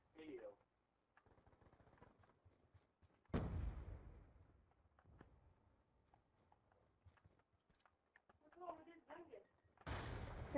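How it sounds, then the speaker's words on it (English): Pistol shots ring out in hardcore team deathmatch in Black Ops 2, a few sharp bursts mixed with other game noise and faint footsteps, while a player talks throughout. "I'm using this pistol"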